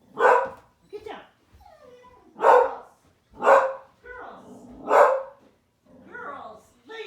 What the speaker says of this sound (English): now the dogs are going to bark